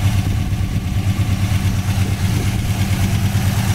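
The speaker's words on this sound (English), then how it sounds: "As you can hear, this is a solid lifter 350 engine, just like the 70 LT1 had back in the day in the Yenkos." A 1970 Chevy Nova Yenko with a solid-lifter 350 engine idles with a loud, steady, low rumble that holds its pace throughout, running alone with no voices over it.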